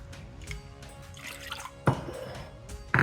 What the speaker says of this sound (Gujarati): એની અંદર એડ કરી નાખીશ 2 વાટકી હજુ વધારે પાણી